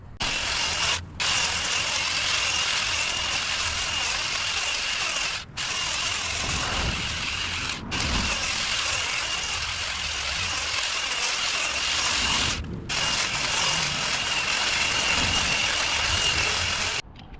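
An Alloyman 20V cordless pole hedge trimmer cuts a blue spruce with a steady, loud, buzzing drone, cut off by brief pauses as the trigger is released, with no talking.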